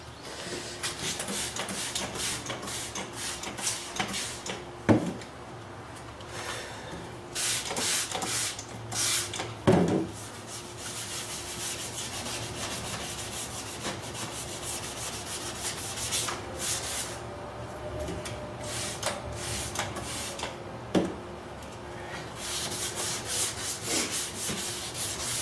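Wet-sanding a BMW's damaged clear coat by hand with 800-grade paper, giving a soft, steady rubbing hiss with occasional louder knocks, alone without talk.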